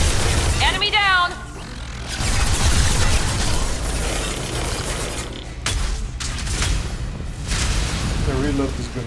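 A powerful grenade explosion in the Mass Effect 2 video game, a loud booming blast with a rumbling tail amid combat noise, game music and voices talking over it.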